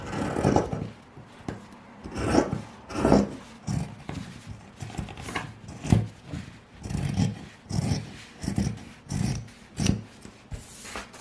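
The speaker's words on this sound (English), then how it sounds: "Make sure you go extra slow when you're trimming that seam allowance so that you don't accidentally trim off too much." Scissors trim the fabric seam allowance on a sewn zip pouch, giving a steady series of soft, rasping snips at a quick, uneven rhythm, close up and alone.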